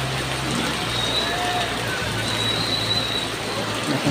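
Heavy rain pours down with strong wind, a dense, steady roar of water close by, with a low engine hum beneath it throughout.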